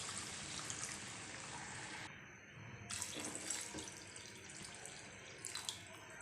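Water poured from a tap or jug into a pan of tomatoes cooked soft over medium heat for a potato curry, a steady splashing pour that pauses briefly and resumes, close and fairly quiet, with no talk.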